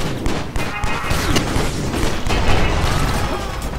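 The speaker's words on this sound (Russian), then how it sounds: "Фургон сейчас взорвется." A van explodes amid gunfire in the action video game Stranglehold, with a loud rumbling boom and dense crackling shots filling the whole stretch without pause.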